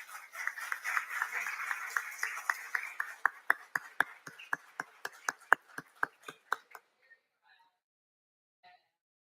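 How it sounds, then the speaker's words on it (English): A room of commission meeting attendees applauds, a dense wash of clapping that thins into a few separate, sharp claps before trailing off to silence. "I'd like to give them a round of applause for"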